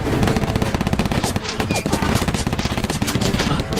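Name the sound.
gunfire in battle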